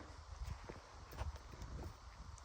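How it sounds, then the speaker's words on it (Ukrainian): A dark chocolate Percheron mare walks along, her hooves clip-clopping in a steady, faint rhythm against a noisy outdoor background. "Зараз їде, кобила їде"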